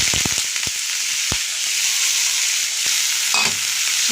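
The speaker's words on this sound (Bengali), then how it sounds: "তেলটা কড়াইয়ে গরম হয়ে গেছে এবার এর মধ্যে আমি চিংড়ি মাছগুলোকে দিয়ে দেবো" Shrimp frying in hot oil in a wok, a steady bright sizzle with a few sharp scraping stirs near the start and another clatter toward the end.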